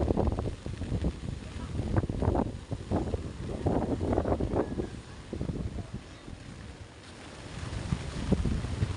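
Strong wind buffets the microphone in loud, uneven gusts at the shore amid big waves, with water sloshing beneath and a voice speaking at times.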